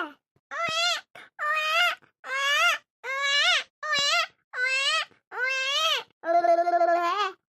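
A baby cries in repeated wailing bursts, about eight cries separated by short breaths, close and loud with nothing else behind it.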